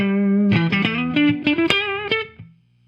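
An electric guitar on its neck pickup plays a warm, rounded melodic run with a slightly distorted, sustaining, howling tone before ringing out into silence.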